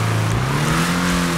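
Rat-rod-style VW Beetle (BF Weevil custom) with an upgraded exhaust, revving in a video game, producing a loud, close, sustained engine drone whose pitch rises smoothly.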